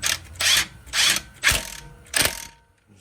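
An impact gun runs a brake caliper bolt in on a 2011 GMC Terrain's front brakes: four short, close, rattling bursts with brief pauses between, and no talk.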